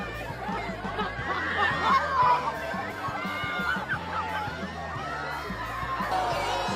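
A large crowd at a celebrity lookalike contest in New York fills the air with dense outdoor chatter. Laughter and snickers rise out of the babble now and then, and a steady backing track plays under the voices.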